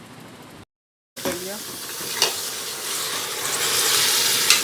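Beef and onions frying in a pan for nihari: a steady sizzle and hiss after a brief silent gap, with stirring scrapes and occasional pops, close up, while a voice talks softly underneath.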